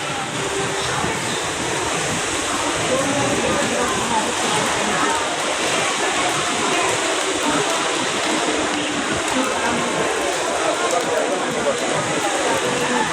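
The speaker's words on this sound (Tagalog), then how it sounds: "Look at that. It's raining." Continuous broadband hiss of rain falling steadily in Singapore, loud and even from start to finish, with no pauses.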